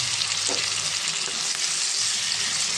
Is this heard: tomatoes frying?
yes